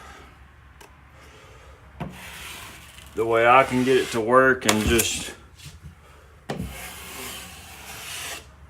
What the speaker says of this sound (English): let sanding become our friend